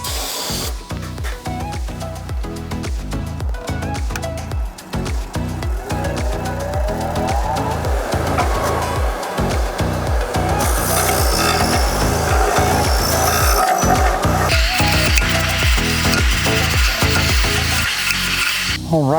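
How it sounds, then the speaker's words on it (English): A brass brush scrubs an aluminum Jeep thermostat housing in loud, close, rapid back-and-forth strokes, a steady rhythmic scratching rasp that continues throughout with no talk. "And I'm using a brass brush on this just to make sure it's shiny clean."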